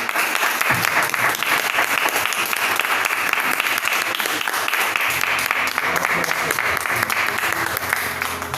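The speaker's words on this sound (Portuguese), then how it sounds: "Aplauda Jesus aí" During a Sunday church service the congregation claps in praise, a loud continuous crowd applause holding steady for the whole stretch with some voices beneath it.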